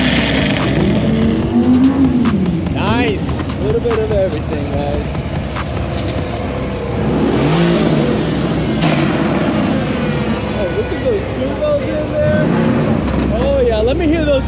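Lamborghini Huracan STO at a Supercar Saturday car show, its exhaust rising and falling in loud revving sweeps with tire-like squeals, while people talk and cheer nearby throughout.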